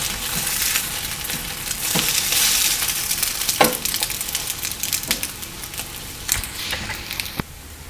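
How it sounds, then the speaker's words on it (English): French toast roll-ups with strawberry and Nutella fry in a pan, a steady sizzle broken by occasional clacks and scrapes as tongs turn them; no talking. "You want to keep turning them so that each side gets a chance to brown."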